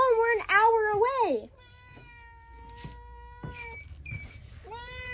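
A cat gives a loud, wavering meow up close, followed by softer, thinner mews spaced out over quiet background noise.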